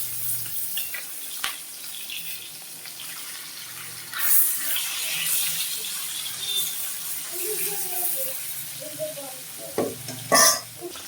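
Snakehead (shol) fish pieces frying lightly in oil, a soft hissing sizzle with watery splashes and bursts of spitting, plus scrapes as pieces are lifted, moderately close.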